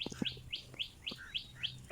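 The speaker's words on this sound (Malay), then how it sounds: "Hari ni kita dengar suara burung di taman." Birds sing in a garden with a quick run of bright, repeated chirps at a fairly even pace, a few lower calls mixed in, moderately close against a quiet background.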